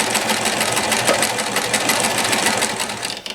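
A NEW HOME Limited Edition Model 108 sewing machine from 1994 runs steadily at close range, its needle mechanism making a fast, even mechanical whir with rapid ticking throughout, then slowing at the very end.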